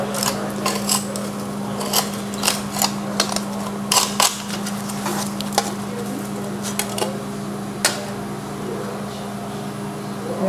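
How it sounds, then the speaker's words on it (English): A chisel or seam buster strikes and gouges out spot welds in sheet metal, giving a string of sharp metallic clicks and taps spaced irregularly over a steady low hum. "put something like a chisel or a seam buster on there"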